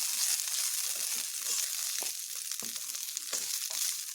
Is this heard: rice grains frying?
yes